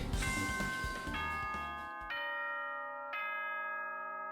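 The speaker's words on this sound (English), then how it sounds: "That's the bell." A chiming bell rings in the Danganronpa 2 video game, several sustained tonal strikes that step downward and ring out clearly, alone with no talking.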